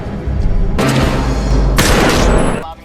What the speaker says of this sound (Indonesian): Bao kemudian ditembak oleh Clark.